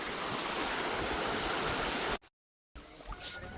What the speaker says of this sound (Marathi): आणि हे बघू शकता तुम्ही मोठा धबधबा.